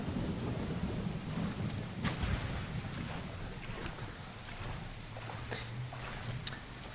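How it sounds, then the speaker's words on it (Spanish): Torrential rain pours down in the Far Cry 3 video game, a dense steady hiss with low rumbling thunder rolling underneath and a few sharper cracks, continuous throughout. "seguimos con la lluvia torrencial. Es la primera vez que veo que en este juego llueve. Bueno, y que truena y todo"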